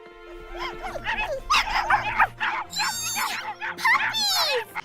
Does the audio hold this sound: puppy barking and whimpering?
yes